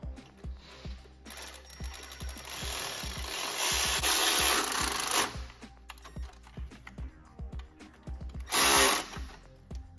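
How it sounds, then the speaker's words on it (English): A 10 mm deep-well socket on a ratchet tightens the brass nut on a Mini Cooper turbo actuator rod, making rapid bursts of fine clicking and rasping with metallic taps in between, heard up close. "to tighten up that brass nut on that actuator rod"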